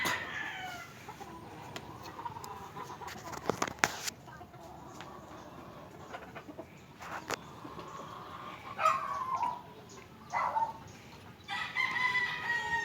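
Chickens cluck and a rooster crows in an outdoor yard, with scattered bursts of activity and some background talk.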